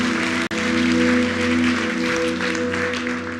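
A church congregation applauds during a sermon, with dense, continuous clapping from many hands that fills the space loudly and evenly for several seconds, alongside a sustained low musical hum.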